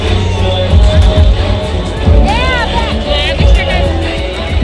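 Large crowd of devotees heading to Siddheshwar Maharaj temple during the Bhogi festival, a dense babble of voices with nearby footsteps and a passing whistle-like tone, loud and close throughout.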